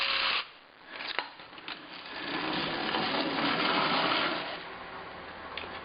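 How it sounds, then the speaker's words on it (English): Vintage wind-up toy siren whirring steadily, a buzzy mechanical wail that rises after a short pause and holds, close by with a few small clicks of handling. "I guess this kind of sounds like a siren."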